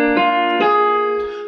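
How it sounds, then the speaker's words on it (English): A dominant seventh chord is sounded twice in quick succession, the second attack ringing on and slowly fading, with no voices. "a dominant seventh chord normally sounds something like this."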